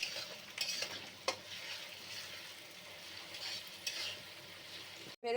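Onions frying in oil until browned for mutton biryani: a soft, continuous sizzle with occasional scraping stirs and light clinks of a utensil. The sound stays fairly quiet and close, with no talking.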